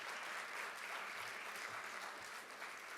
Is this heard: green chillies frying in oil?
no